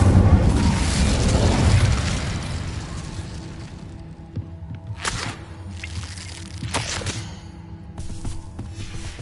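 An Incendiary fire spell is cast in the video game Hogwarts Legacy, opening with a loud whooshing burst that fades into softer crackling and a few sharp flares, with no voices.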